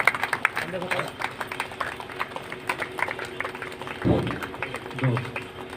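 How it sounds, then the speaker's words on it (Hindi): Scattered applause rises from the crowd at an outdoor Bhagwat Katha gathering at a cow shelter during an honoring ceremony, with uneven claps mixed with background voices and crowd noise. "जोरदार तालियां।"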